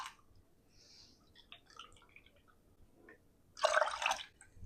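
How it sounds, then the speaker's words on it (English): Milk pours into rice in a pot, starting with a few faint drips and small liquid sounds, then a short, louder splashy pour near the end; nobody speaks. "3 cups of milk in with our rice."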